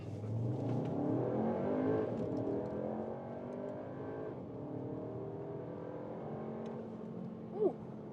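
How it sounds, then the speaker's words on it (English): A Skoda Kodiaq RS with a 265-horsepower engine accelerates hard in sport mode, its engine note rising steadily through the gears from inside the cabin, with a brief shift-like blip near the end. "Very nice acceleration here from this 265 horsepower engine, now 20 horsepower more."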